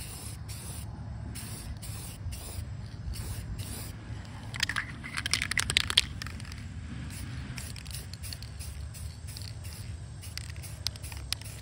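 Red spray paint hisses from an aerosol can onto the plastic engine cover of a 2024 Corvette C8, in a series of short, close bursts with brief pauses and a denser stretch of spraying in the middle.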